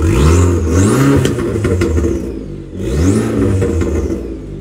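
Tuned Abarth car engine revved with the exhaust closed: two strong blips rising and falling, a throaty roar with crackle between them, close and loud.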